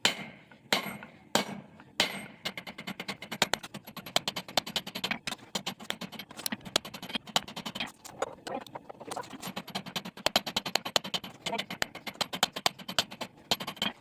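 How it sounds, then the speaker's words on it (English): Hot steel from an old pipe wrench being forged into a knife is struck on an anvil, with sharp ringing hammer blows that come in quick bursts and irregular runs of closely spaced strikes, separated by brief pauses. "I'm gonna go over and work it on top of the anvil and kind of spread out"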